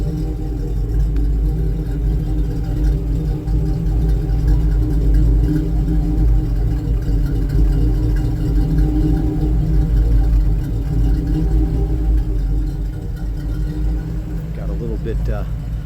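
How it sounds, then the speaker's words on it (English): A 1982 Jeep CJ7's carbureted V8 with dual exhaust and Flowmaster 50 mufflers idles with a deep, steady, rumbling exhaust note that stays constant throughout, close and loud. "Dual exhaust. Flowmaster 50s."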